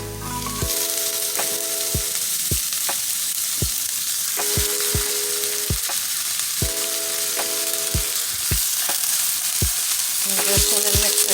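Ground beef sizzles steadily in a pan over medium-low heat, a constant close frying hiss, with repeated sharp knocks of a utensil stirring against the pan and occasional short beeping tones.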